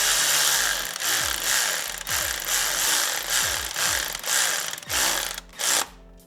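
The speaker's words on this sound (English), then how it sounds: "Got our ratchet ready to go." A hand ratchet tightens a bolt on a Triumph motorcycle's Evotech Performance radiator guard, a loud close run of rapid clicking pawl strokes in rhythmic bursts before stopping near the end.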